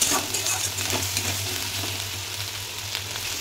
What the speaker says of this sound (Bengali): পেঁয়াজ বাটা রসুন বাটা দিয়ে মশলাটাকে ভালো করে কষে নিয়ে নেবো।